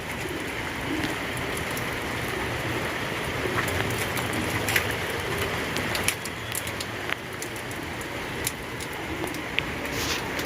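Steady rain falls outside during a heavy downpour, a dense even hiss with occasional faint drips and ticks, continuous and moderately near, with no talk.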